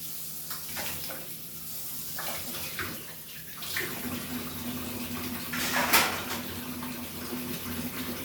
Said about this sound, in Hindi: थाली धो के रख दूँगी